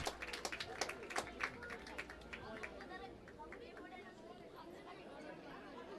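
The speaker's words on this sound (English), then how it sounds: "a big round of applause around the ground goes as he is back on his feet" Crowd applause and cheering ring around a schools rugby ground, busiest at the start with scattered claps and chatter, then fading into a steady murmur of spectators.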